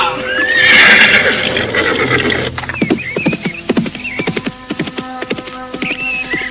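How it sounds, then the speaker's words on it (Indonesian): A horse whinnies loudly, then its hoofbeats clatter in a quick, rhythmic gallop as it is ridden hard away, the hooves loud and close throughout. "Restu Singgih dengan cepatnya melarikan kudanya menuju ke tempat Ki Buyut Manguntapa"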